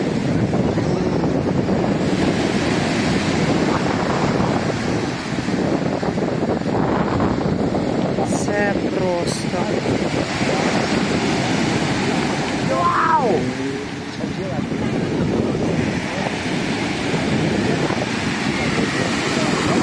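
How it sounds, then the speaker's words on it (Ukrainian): Strong wind buffets the microphone on a storm-battered beach while waves crash and wash in, a loud steady broadband roar with surges; someone talks briefly under it. "А хвилі це ж лише. Оце вітерочок."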